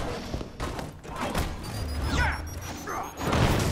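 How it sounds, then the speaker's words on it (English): A grenade blast in the video game Marvel's Avengers rumbles with heavy thuds and crashing debris under dense game noise, swelling again near the end. "Oh, grenade to the back."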